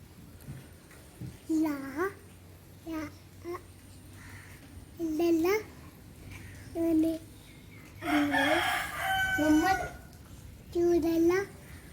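A chicken clucks and crows in short, repeated bursts, fairly close, with pauses between calls and a light background hum; the bird is wet from rain.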